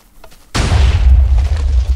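A TNT cannon in a video game fires once, a sudden loud boom with a heavy low rumble that lingers for over a second, following a moment of near silence.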